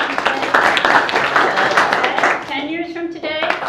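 Dense applause from an audience clapping their hands, steady and loud for most of the moment, with a voice speaking over it near the end.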